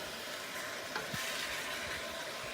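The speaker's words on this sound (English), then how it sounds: "I want to saute this for about 7 minutes." Meat sautés and sizzles in a pan for a meat sauce, a constant bright frying hiss with soft scrapes and clacks as it is stirred.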